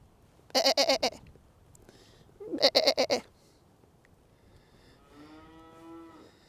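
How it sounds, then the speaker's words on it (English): Sheep bleat twice in close succession, each a loud, quavering call about half a second long, followed by a fainter, wavering bleat farther off, outdoors with no talking. "Get you some sheep here. Get you some sheep here. Look at the sheep."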